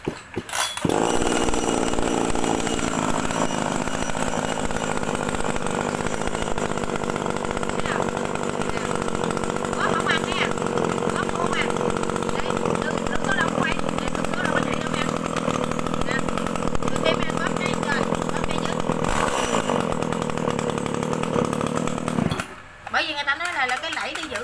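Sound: chainsaw engine running

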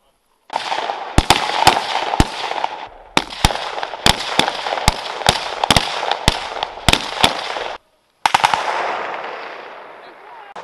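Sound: rifle gunfire during simulated military assault training

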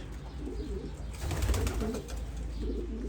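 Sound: homing pigeons cooing in a loft

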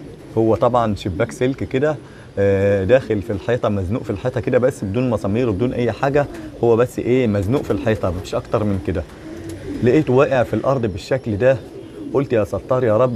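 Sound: pigeons cooing in a pigeon room

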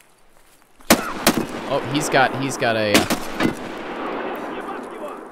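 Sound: M1911 pistol gunshots from video game Escape From Tarkov

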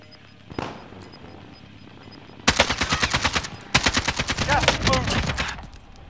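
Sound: AK rifle gunfire in video game Call of Duty Warzone

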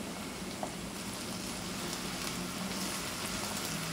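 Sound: tomatoes and whole chilies sizzling as added to okra

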